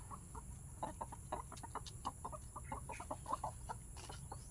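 Several chickens cluck in short, scattered bursts against a steady low background hum, fairly close and moderately loud.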